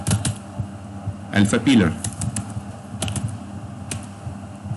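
Keys tapped on a computer keyboard in a quick, uneven run of clicks, close by, with someone speaking over much of the typing.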